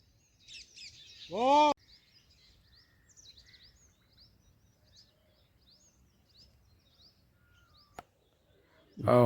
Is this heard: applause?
no